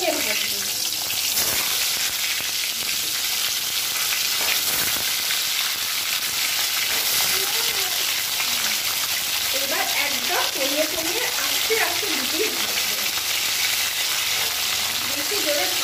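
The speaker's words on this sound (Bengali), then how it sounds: "আচ্ছা এইবার একটা একটা করে পটল ভাজবো" Pointed gourd frying in oil in a home kitchen pan, a steady broadband sizzle running throughout, with a few faint stirring scrapes and light background voices.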